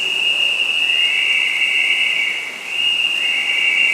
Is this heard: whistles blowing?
yes